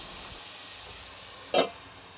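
Onion and tomato sauté with salt in a pan, giving a faint, steady sizzle and hiss with a single brief louder clatter near the end.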